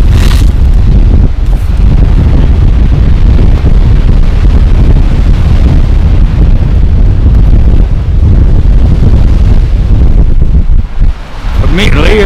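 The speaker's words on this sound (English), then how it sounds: "you'll probably hear the wind change" Strong wind roars across Dungeness Beach on the shingle coast, buffeting the microphone loudly and continuously with heavy low rumble and gusting bursts throughout.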